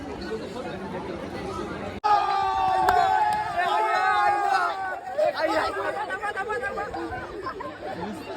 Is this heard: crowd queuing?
yes